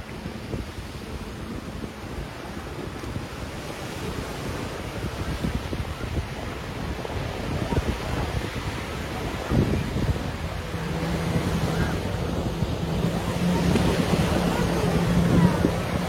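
Sea waves surging in at high tide, a steady rushing wash of surf with wind buffeting the microphone, building slightly louder toward the end with no voices.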